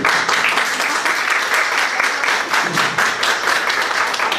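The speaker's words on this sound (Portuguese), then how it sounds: "Pode aplaudir." Steady, dense applause from an audience at a public candidates' event, loud and continuous for several seconds with no pause.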